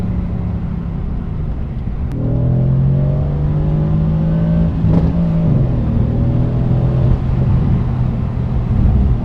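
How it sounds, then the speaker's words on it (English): A 500 hp Mercedes-AMG car pulls hard in first gear at night, its engine note rising loud and close over a steady rumble, with a gear-related dip midway before climbing again. "little first gear pull for y'all"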